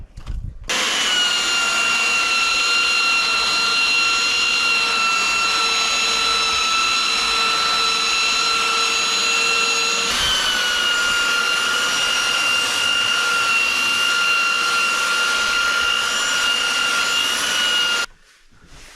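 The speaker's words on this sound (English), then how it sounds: "So let's sand this first." A power sander works on wood at an off-grid log cabin in Canada, a loud steady whine with bright tonal harmonics running almost continuously, briefly dipping once midway, then cutting off.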